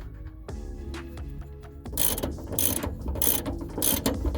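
Ratchet tightening the nut onto the lower shock absorber bolt of a VG to VS Holden Ute, starting with a single metallic click and then a series of bright, rhythmic ratcheting bursts close to the microphone.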